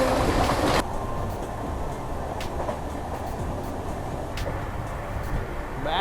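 An Amrit Bharat Express train overtakes the Ernad Express on a coastal Kerala line: a steady rolling rumble of wheels on track with faint rhythmic clicks, after a brief louder rush at the start, with no talk over it.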